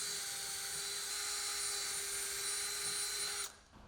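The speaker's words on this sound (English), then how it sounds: "Then drill holes at the screw hole locations." A hole saw drills through the roof of a Polaris Xpedition, a steady high-pitched whine held for about three and a half seconds before it stops abruptly, close and alone.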